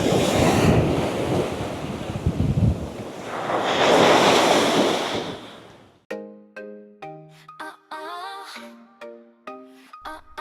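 Surf rolls onto a beach in Pattaya, heard as loud rushing waves with wind buffeting the microphone for about six seconds before the sound abruptly gives way to a short melodic ringtone-like jingle.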